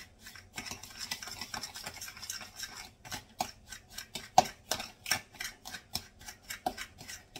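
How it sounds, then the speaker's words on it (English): A fork stirring and breaking up a cinnamon mixture in a bowl, giving irregular light clicks, scrapes and taps against the dish, close but quiet, with no talking. "I'm using my fork so I can get it, all the pieces broke up"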